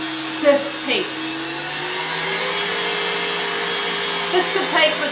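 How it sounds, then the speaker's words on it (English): An electric mixer whisking egg whites with cream of tartar toward stiff peaks, giving a steady, loud motor whir with a constant pitched hum that holds evenly throughout, close by, with no voice over it. "we're going to whisk this until we get really stiff peaks"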